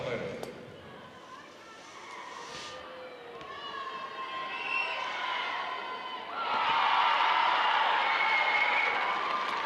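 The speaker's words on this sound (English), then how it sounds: "Canberra faithful in the crowd, getting behind that one." Canberra fans in the stands at a WNBL basketball game against the Sydney Flames, a crowd roar that swells and grows louder near the end while a commentator talks over it.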